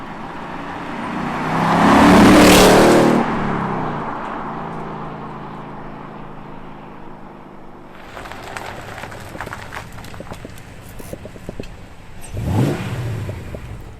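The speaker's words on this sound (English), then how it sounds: "That was the Mustang Mach1, and what a car." A 2021 Ford Mustang Mach 1 engine roars loudly as it passes close by, fades to a low rumble, then revs and accelerates again in a second sharp pass.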